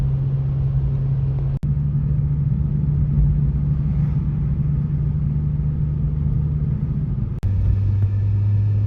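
A BMW E46 engine drones steadily from inside the car on an Alpine mountain road, a low continuous hum with road rumble and two brief dropouts as it drives along.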